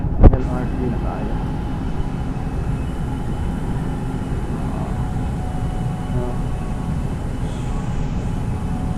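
Steady low rumble of a light rail train in motion, heard from inside the car, with a brief sharp click at the start and constant rolling noise throughout.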